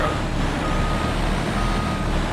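A truck's reversing alarm beeps steadily over a constant engine rumble in the farming game Farming Simulator 25, loud and close.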